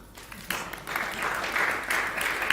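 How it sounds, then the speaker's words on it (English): An audience at a live Sunday bhajan gathering breaks into applause that starts suddenly and swells into steady, moderate clapping for the rest of the moment. "Big round of applause to them."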